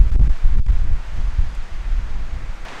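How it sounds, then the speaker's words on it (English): Strong wind buffets the microphone in low rumbling gusts by a lakeside, rising and easing unevenly with a faint rustle underneath. "Even when the wind is about to blow my camera away."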